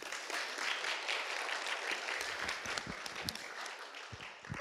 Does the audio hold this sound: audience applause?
yes